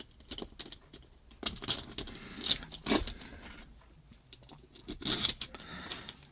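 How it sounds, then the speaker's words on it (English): Small metal screws are handled and fitted through a metal detector arm cup bracket, making light clicks, scrapes and jingly metallic taps in an irregular close-up sequence, with no voices. "get the longer screws, put them through"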